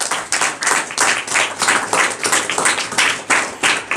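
A congregation at a home prayer meeting claps together in a steady, fast rhythm, loud and close, sustained throughout with no one speaking over it.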